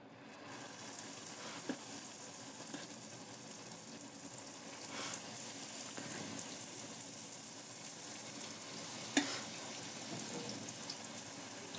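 Red rice idli batter bondas fry in hot oil with a steady, soft, even sizzle and bubbling, plus a few faint clinks along the way.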